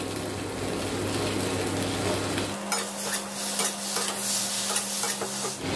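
Spice masala with pre-fried pointed gourd sautéing in a pan for rui fish curry, a steady sizzle with scraping stirs, a low hum underneath that shifts partway through, no voices.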